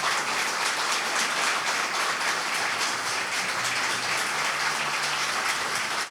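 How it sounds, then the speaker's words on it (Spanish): Steady, dense applause from a large audience as a distinguished female guest is honoured at a conversation event, the clapping sustained and even at full level throughout without any talk over it. "le rendimos un fuerte aplauso a nuestra invitada de lujo esta noche"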